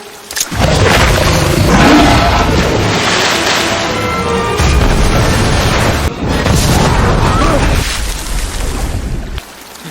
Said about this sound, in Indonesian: Jacob yang masih menyimpan dendam kepada si buaya memutuskan untuk menghabisi makhluk itu dengan menggunakan granat